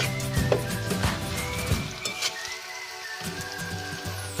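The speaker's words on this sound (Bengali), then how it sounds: "রসুন দিয়ে এক মিনিট ভেজে নেব" Carrots and garlic paste fry in a pan for vegetable noodles, giving a crackling sizzle broken by clinks and scrapes of a spatula against the metal, with a brief quieter gap midway.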